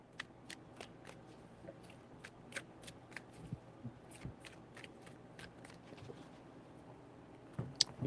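Tarot cards are shuffled in a quiet room as a steady run of soft, crisp riffling snaps, evenly spaced and close by, with no talk over them.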